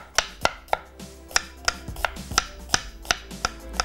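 A medium onion being finely sliced with a knife on a board, about a dozen crisp, evenly spaced chops sounding close and clear with no talking.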